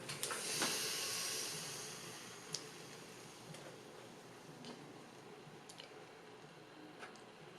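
A steam iron on a wool setting hisses steadily as it steams stretched wool fabric pulled taut for a hand-sewn bound buttonhole, with a few faint ticks and clicks scattered through the soft, continuous hiss.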